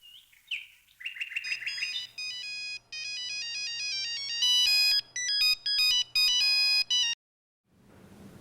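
A mobile phone ringtone plays an incoming-call melody of bright electronic chirps and repeated tonal phrases for several seconds, loud and close, then cuts off, with a faint breathy noise after.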